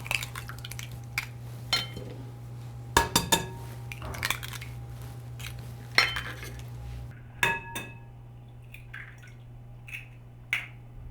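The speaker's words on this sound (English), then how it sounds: "The first step is to crack 8 eggs into a bowl." Eggs being cracked into a bowl for a mushroom and cheese frittata: a series of sharp, close taps and clinks, with a few clustered cracks around the middle, over a steady low kitchen hum.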